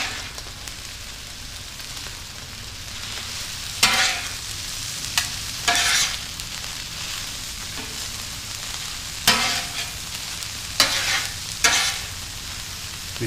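Egg roll in a bowl mixture stir-frying in oil, with a steady soft sizzle beneath repeated bursts of stirring and scraping at irregular intervals, close and fairly quiet, no talking.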